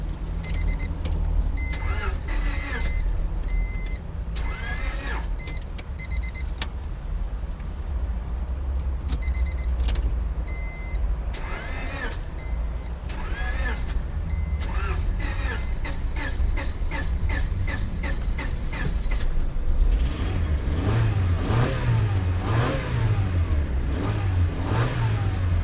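A 2000 Honda Civic with a very low battery has its engine cranked and brought to life, with clicks and chimes early on, then a steady idle and revving in the later part. Someone talks quietly over parts of it.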